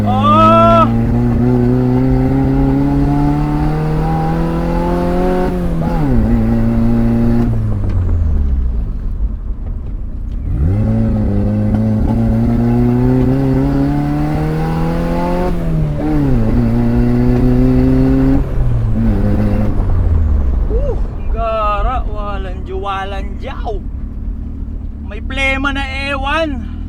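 The engine of a 1989 Toyota Corolla small body is revved up and down repeatedly, its rising and falling tone loud and close, with an uneven, stumbling misfire through each rev and voices talking near the end.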